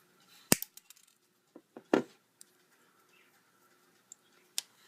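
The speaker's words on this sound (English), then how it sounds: "you just want to take your wire cutters and you want to trim it to the size that you need it" Wire cutters snip an eye pin for a brain cupcake decoration: a few sharp, isolated clicks and snaps close by, scattered over a few seconds in a quiet room with faint handling noises between them.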